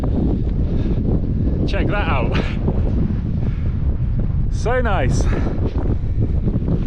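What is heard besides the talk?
strong cold wind on a Welsh mountain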